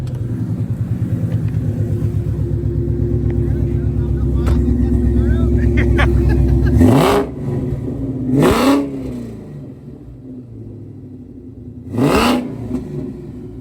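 A deep, loud Shelby GT500 V8 swapped into a Fox Body Mustang idles at first start-up with a rumbling exhaust, then revs sharply three times, each burst rising and falling, with brief pauses between.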